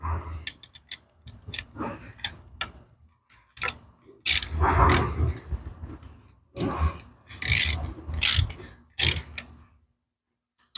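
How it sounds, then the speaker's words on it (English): A 9/16 ratchet wrench tightens a bolt on a 45-degree chair swivel during a rebuild, giving bursts of close ratcheting clicks and metallic rattles in uneven groups, with short pauses between strokes. "now I'm going to tighten that down with that 9/16 I was talking about earlier"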